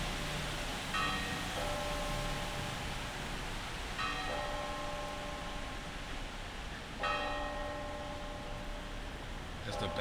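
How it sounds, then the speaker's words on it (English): Church bells ring out from the basilica bell tower at noon on the St. Augustine, Florida waterfront, three distinct peals a few seconds apart, each with a bright shimmering ring that hangs over steady outdoor wind and city hiss. "That's the bell tower of the basilica."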